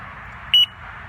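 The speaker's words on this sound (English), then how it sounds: "It's giving about a beep about every 2 seconds." A single short electronic beep from a faulty Mighty Mule gate opener, which beeps every two seconds, sounds once over a low background hum.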